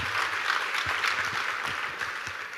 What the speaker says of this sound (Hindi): जब सिल्वर प्ले बटन आया, तालियां.